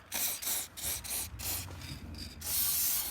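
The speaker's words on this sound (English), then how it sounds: "It is a PTFE spray." Several short bursts of PTFE dry lube spray hiss in quick succession onto car window regulators, close and crisp, ending with a longer hiss.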